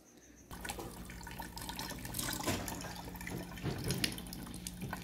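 Water poured into a container for a homemade ant-killing solution with bleach, a sudden onset of steady splashing and gurgling that continues close up, with small drips and fluctuations.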